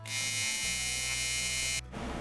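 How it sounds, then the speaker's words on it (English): Loud, steady electric buzz of a welder laying down a small tack weld, a continuous harsh hiss for nearly two seconds that cuts off abruptly, with a low hum continuing underneath afterward. "That seems like you're welding for so long to get an itty bitty tack. That's so loud."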